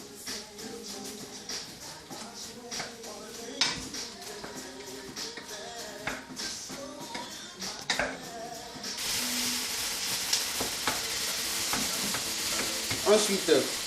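Onions frying and sizzling in a pan while a spatula stirs them, with steady scraping and tapping; the sizzle grows louder and brighter in the second half, close up with no talk.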